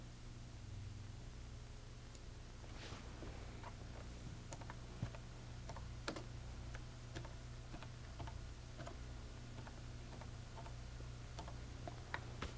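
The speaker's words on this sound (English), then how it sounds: "I can type in, I can hit Control Enter and put in more stuff" Computer keys tapped in short, irregular bursts of faint clicks over a steady background hiss, with no voices.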